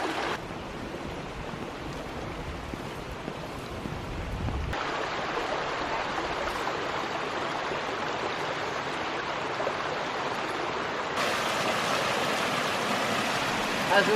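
A creek flowing outdoors near an abandoned greenhouse, a dense, steady rushing of water that stays loud and even throughout with no voices.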